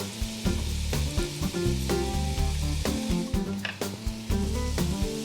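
Tomato paste and minced garlic sizzle in a soup pot with browned beef juices, a steady hiss broken by frequent sharp clicks and scrapes of stirring.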